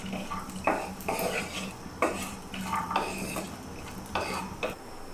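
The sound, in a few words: dry fruits and dried dates being roasted and stirred in a pan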